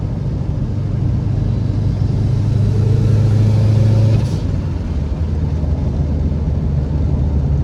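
A tuned Subaru WRX STI bugeye cruises at steady speed, its engine giving a low, continuous droning hum with a brief rise in pitch midway. The sound is loud and close, as from inside the car.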